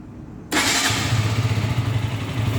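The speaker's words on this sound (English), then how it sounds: "Now let me show you the exhaust note" A 2022 KTM RC 125 BS6 motorcycle with an underbelly exhaust starts up abruptly after a moment of quiet, then settles into a close, loud, throbbing idle with a rhythmic low pulse.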